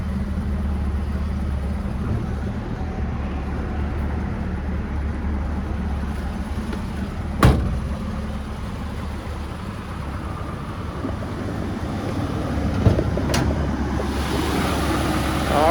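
A 1965 Ford Mustang's 260 cubic inch small-block V8 idles steadily and close up with the hood open, a deep continuous rumble with two brief clicks partway through.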